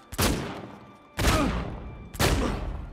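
Gunfire in Uncharted 4 multiplayer: three loud bursts of rapid blind-fired shots, each lasting about a second, spaced evenly with short gaps and no talk over them.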